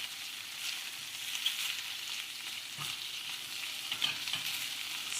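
Shrimp frying in a pan for Thai spicy noodle soup, a steady close sizzle with occasional stirring scrapes, no voices.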